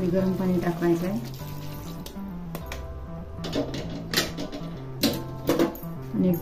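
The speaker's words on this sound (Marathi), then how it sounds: "त्यामध्ये गरम पाणी टाकायचं आहे" Hot water poured into a pan of frying mixed vegetables seasoned with cumin and coriander powder, setting off a steady crackling sizzle with scattered pops, at moderate loudness up close.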